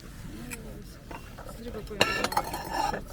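Light clinks and taps of Bavarian porcelain plates being handled, a few sharp chinks near the end, with quiet voices murmuring underneath.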